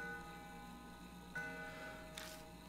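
Antique grandfather clock in the video game Death Mark, its ticks faint and sparse over a steady tonal ambient drone, with a couple of soft clicks standing out late.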